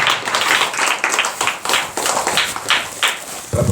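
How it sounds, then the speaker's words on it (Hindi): A church congregation claps hands together in a steady, roughly even rhythm of about three claps per second, loud and close, alone without talk. "आज मिलकर ताली बजाएंगे"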